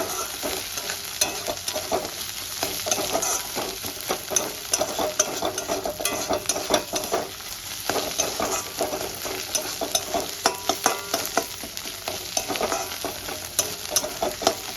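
Onions fry in a pan with a continuous loud sizzle, while a spatula stirs them in a steady scraping, clattering rhythm close by throughout.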